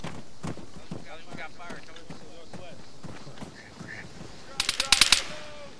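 Gunfire in a Halo-themed military video game campaign: a short burst of rapid, sharp shots near the end, following a stretch of radio-style voice chatter and background battle noise.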